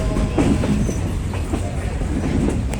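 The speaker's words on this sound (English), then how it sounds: "the train ride over the river" A train rumbles steadily across a big steel bridge over a river near Bryson City, North Carolina, its heavy low roar punctuated by faint metallic clacks and rattles as the cars roll over the track.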